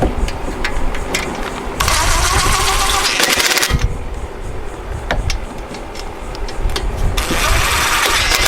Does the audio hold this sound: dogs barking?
no